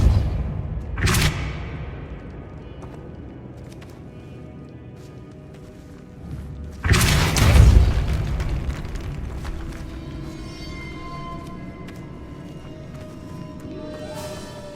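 The Depulso spell in the Hogwarts Legacy video game is cast as a sudden loud whooshing blast that booms and fades into a rumbling tail, following an earlier, smaller burst against a low ambient background.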